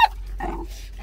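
A dog caught in a trap gives a brief, low growl up close, a short rough grumble lasting well under a second, with no talking.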